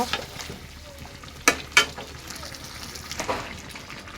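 Fish and bottle gourd cook in a pan, giving a low bubbling simmer with a few sharp clinks and scrapes of a utensil against the pan, while someone speaks nearby.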